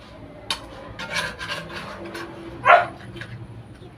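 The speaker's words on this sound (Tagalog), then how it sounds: "Ang aking aso ay maingay." A dog gives a few sharp barks, with one louder bark near the end, over faint clattering of dishes in a room.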